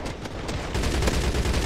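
Rapid automatic gunfire crackles in the video game Crossfire X multiplayer, a dense loud burst of overlapping shots with no pauses.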